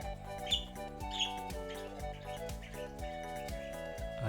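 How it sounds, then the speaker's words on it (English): Two short, bright bird chirps from Stardew Valley, spaced about a second apart and fairly close, set over gentle tonal background music with no talk. "I do indeed see and hear you, you beautiful little bird, you."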